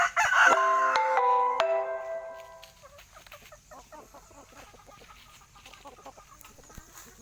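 Shamo fighting cock cross rooster lets out a loud, close crow at the start, then settles into softer, rapid clucking and low murmurs from nearby chickens.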